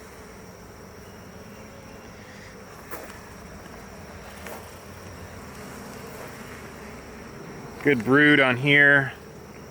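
Honeybees hum around an open, thriving hive during a frame inspection, a steady soft drone running throughout, with a person speaking briefly near the end.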